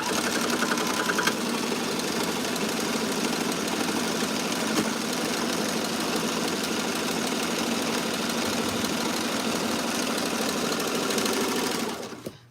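A sewing machine runs in one long unbroken stretch, a steady mechanical whir with a rapid rhythmic stitching pulse, close and even until it stops abruptly.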